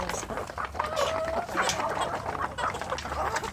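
Free-range village chickens cluck nearby in a busy, overlapping chorus of short clucks and calls against a noisy outdoor background, with no clear talk.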